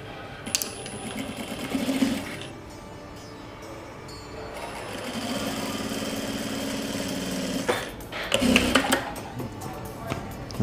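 A sewing machine runs in several bursts while stitching a double-piping back pocket, with quiet pauses between runs and a longer, steady stretch in the middle.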